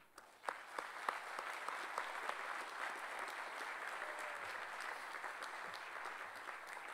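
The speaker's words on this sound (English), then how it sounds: "They deserve a round of applause" Audience applause at a university doctoral hooding ceremony, a large hall of clapping that starts with a few distinct claps and swells into a steady, somewhat distant wash.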